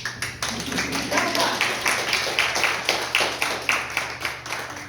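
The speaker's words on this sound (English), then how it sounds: "And I forgot to clap for this group." Workshop audience at a marriage seminar clapping for a small group, a modest round of clapping with a roughly regular, rhythmic pulse of claps, fairly close and moderately loud, with voices mixed in.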